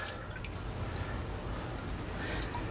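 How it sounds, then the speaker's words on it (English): Homemade apple cider vinegar made from apple scraps dripping through cheesecloth, a soft steady patter of liquid under faint background hiss, with no voices. "we're just going to pour this right over our cheesecloth"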